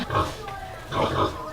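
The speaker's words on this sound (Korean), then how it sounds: "이게 다 큰 돼지가 이렇게 크더라고요. 그리고 밥 먹으려고 가끔 이렇게 밤새도록 이렇게 울어요." Large pigs grunt and squeal in a pen directly behind a room, two bursts of oinking a little distant and moderately loud over a low background.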